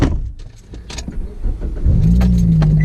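A Scion xB on a fitted suspension upgrade starts driving off, with a low engine swelling and holding steady near the end after some shuffling and key jangles; no talk.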